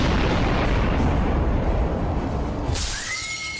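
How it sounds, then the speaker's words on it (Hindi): A massive Beirut port explosion caught on home CCTV, with a loud, sustained roaring blast and shattering glass filling the whole clip before easing into a quieter rumble. "बेरूत पोर्ट पर इतना भीषण धमाका होता है"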